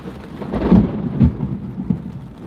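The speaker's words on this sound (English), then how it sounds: "they ain't playing with this storm" A thunderstorm with deep rolling thunder rumbles under steady rain, two heavy booms close together followed by a softer grumble, loud and near with no voices.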